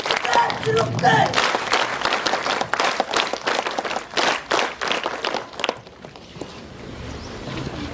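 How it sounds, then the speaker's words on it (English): Audience at a school mathematics day celebration claps loudly and steadily in a large room, dense applause lasting several seconds before fading to a quiet murmur. "Clap."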